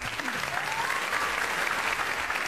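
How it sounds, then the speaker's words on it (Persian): Studio audience on a Persian Nowruz TV game show applauding a winning team, steady dense clapping throughout with a faint voice or tone gliding underneath. "تشویقشون بفرمایید"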